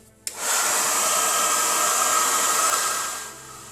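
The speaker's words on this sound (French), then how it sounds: "si vous avez deux vitesses sur votre sèche-cheveux, prenez la plus petite" A hair dryer on its low speed switches on with a click and blows at a steady, moderate whoosh, then winds down slightly near the end.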